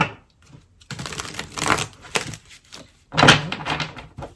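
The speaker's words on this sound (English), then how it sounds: "One more shuffle." Tarot cards are shuffled in a few brisk riffling bursts, close and crisp, separated by brief pauses with no talking.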